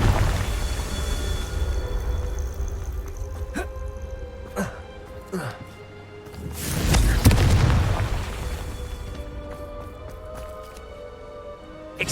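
A Confringo blasting spell explodes in Hogwarts Legacy: one deep, loud booming blast with a rumbling tail, set against steady game ambience and a few faint sharp pops before it.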